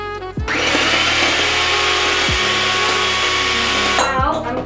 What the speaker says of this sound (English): I've got my beater and I've got my eggs ready, and we're going to mix that together for 30 seconds